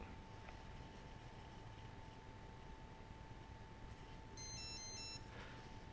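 An Align T-Rex 150 DFC RC helicopter sounds its ready tone, a quick, faint, high-pitched melodic run of several notes against a steady background hum.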